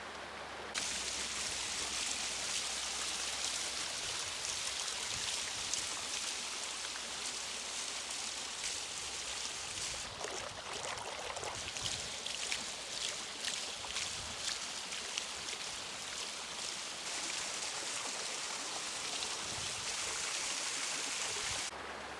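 Water from a garden pond waterfall pours steadily over stones in a broad, continuous outdoor rush, close and even throughout with no talking.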